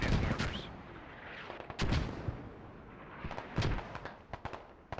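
Mortars and other gunfire in the tactical shooter Squad: distant booms and sharp cracks, some in quick bursts, sound over a steady rumble of battle. They come at irregular intervals throughout and are fairly faint.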